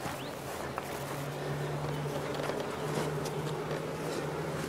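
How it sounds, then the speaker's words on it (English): Honey bees being shaken and moved into a new hive box of a different size, their steady, dense buzzing droning close by throughout with no talk. "we're just going to put these bees off in there."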